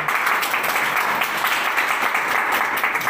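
Audience clapping after a Teeth Cure product demonstration, a dense, steady round of applause that carries on throughout at fairly close range.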